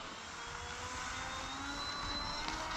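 The electric motors of a HobbyKing B-17 Flying Fortress RC model plane hum in a steady, even whine outdoors, slowly rising in pitch as the throttle increases, with wind noise underneath.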